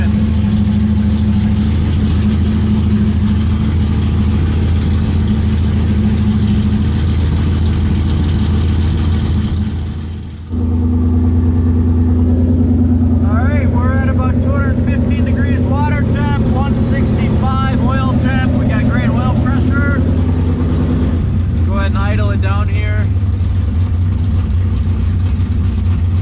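A 1965 Impala SS drag car engine idles with a deep, steady rumble, briefly cutting out midway before resuming, while people talk faintly nearby.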